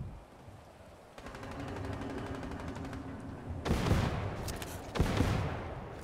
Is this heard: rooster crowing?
no